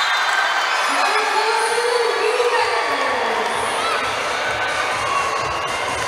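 A large crowd cheers and shouts steadily at a women's volleyball league match between military and police teams in an indoor arena, loud and continuous, with an announcer talking over it.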